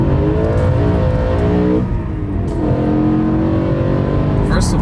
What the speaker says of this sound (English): let's warm up the engine